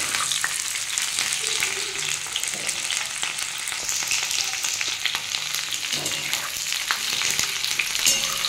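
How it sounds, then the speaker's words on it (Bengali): Chicken sizzles steadily in a frying pan, a dense continuous crackle with occasional clicks of stirring, close and even in loudness throughout. "আসলে বন্ধুরা আমার চিকেনটা ভাজা হয়ে এসছে।"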